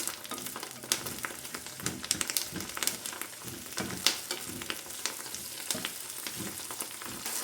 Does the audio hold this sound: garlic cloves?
yes